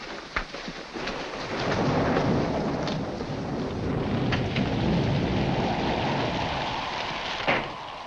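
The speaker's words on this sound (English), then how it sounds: "In this rain?" Heavy rain pours steadily in a stormy night scene, a dense continuous wash with low thunder rumbling beneath it and no voices.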